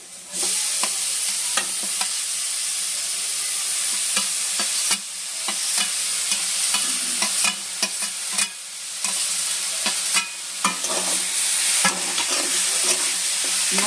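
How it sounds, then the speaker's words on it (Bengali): A coconut and jaggery filling stirred in a wok for coconut pithe, with repeated spatula scrapes and clacks over a constant bright sizzle, close and loud, with no voices. "সেই গুড়টা দিয়ে এবার সেই কড়ার মধ্যে আমি একটা পুর তৈরি করে নেবো"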